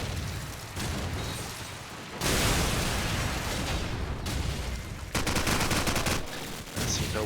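Rapid, loud bursts of gunfire from a competitive Call of Duty 4 promod match on the mp_backlot map, nearly continuous with dense volleys separated by brief lulls.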